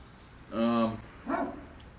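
A dog gives two barks, the first longer and louder and the second shorter, fairly close by in a quiet setting while an AR rifle is being cleaned.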